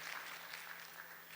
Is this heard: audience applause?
yes